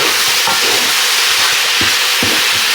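Oxtails and onions fry in a pan over high heat, giving a loud, steady sizzle with occasional soft stirring scrapes and no voices.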